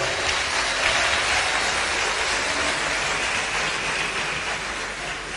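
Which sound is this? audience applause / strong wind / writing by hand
audience applause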